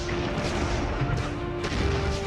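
Naval artillery bombardment of the Okinawa beach before the landing, a dense rumbling barrage with sharp blasts breaking through, loud and continuous, heavy low thunder throughout.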